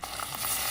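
Rohu fish fries in hot oil, a steady close hiss of sizzling and crackle filling the short moment.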